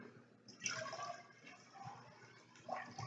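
Water pours from holes in a flask into a pail in short splashing, trickling bursts, faint and close, with no talk over it.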